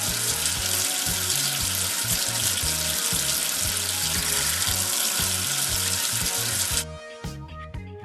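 Steady rushing water rinsing soap away in a 3D preschool number-tracing game, a continuous hiss over a looping bouncy music bed, cutting off abruptly near the end while the music carries on.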